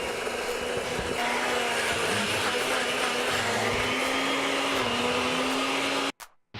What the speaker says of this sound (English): spoon your tofu into the blender and lightly frappe.